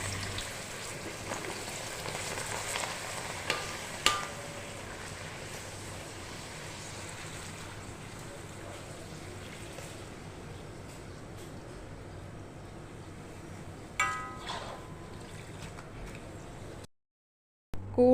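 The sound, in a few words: frying papadam in oil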